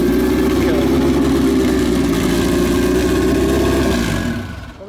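A drag race car engine idles smoothly and steadily at close range, a deep continuous rumble that tapers off at the very end, with no talking.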